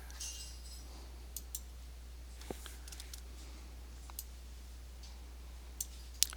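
Computer mouse clicking, sparse sharp single clicks spaced irregularly over a quiet background with a low steady hum.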